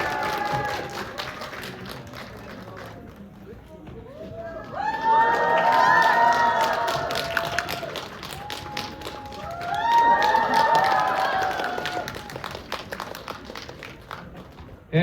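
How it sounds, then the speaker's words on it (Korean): Audience at a Korean film stage greeting for 왕과 사는 남자, welcoming the director and cast, breaks into loud, sustained applause with cheers and excited shouts that swell in two big waves. "큰 박수 부탁드리겠습니다"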